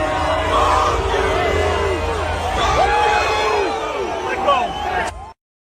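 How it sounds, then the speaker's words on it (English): Crowd of people booing and shouting angrily: loud overlapping jeers and yells from many voices, close and sustained, then cutting off abruptly. "Oh, you heard the motherfucking people booing."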